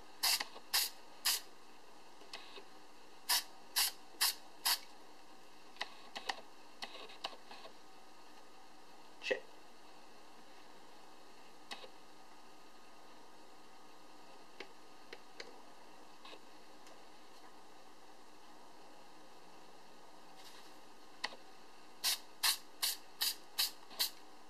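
An airbrush sprays paint onto Xbox 360 controller buttons in short, sharp bursts, clustered at the start and the end with scattered lighter puffs in between, all quiet and close.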